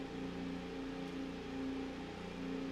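Steady, droning engine whine of an F1 car in a racing video game, a constant mid-pitched hum with tonal harmonics, quiet and even with no talk.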